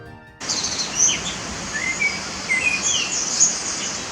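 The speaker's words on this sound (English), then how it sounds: "Eurasian blackbird singing." A Eurasian blackbird sings in a woodland on the Isle of Skye, giving a series of clear, bright whistled and chirping phrases at moderate distance, with no voices.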